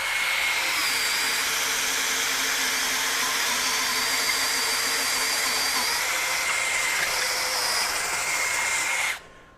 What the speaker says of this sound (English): So for an ultra compact drill, driving that 1-inch auger bit, not a bad job at all.